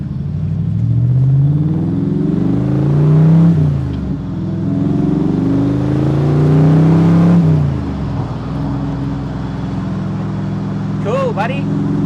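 A 2003 AC Shelby Cobra V8 revs while driving, its loud, close engine note rising and falling in repeated throttle sweeps, with people talking over the rumble.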